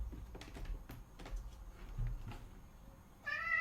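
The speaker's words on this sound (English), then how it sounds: "that cat was walking all over his Quran" A cat gives a short, clear meow at the very end, following a stretch of soft, scattered clicking and tapping.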